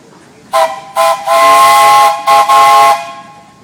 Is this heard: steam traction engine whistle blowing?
yes